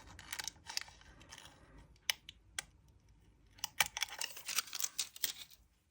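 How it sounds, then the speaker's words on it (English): Tape gently peeled off the back of an eco resin candle jar, a quiet series of short crackly rips and sticky clicks, sparse at first and then quicker and denser toward the end, close up with no talk. "So now we're going to take the tape off the back gently."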